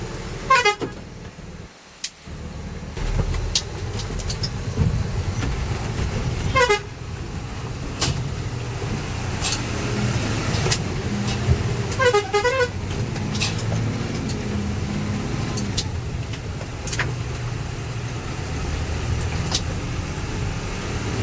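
A vehicle stuck in a pothole on a rough road revs and labours as it drives out, with engine rumble throughout and repeated car horn toots from nearby traffic; no talking.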